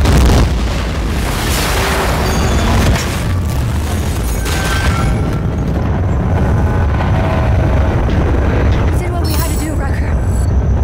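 A ship blowing up in the Battlefield 4 single-player Suez mission, a heavy, loud boom with deep rumbling that rolls on for several seconds, with voices heard alongside.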